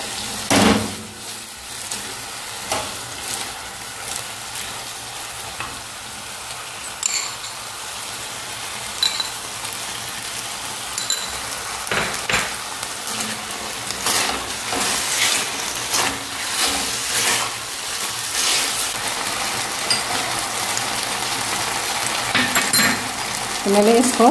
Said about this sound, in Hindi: इसको ऐड करते करते भी थोड़ा इसको चलाते रहिए